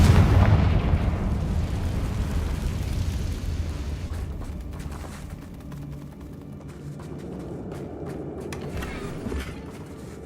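The Confringo fire spell explodes in the Hogwarts Legacy video game with a booming blast at the start, its rumbling roar fading into a long crackling tail, with no voices over it.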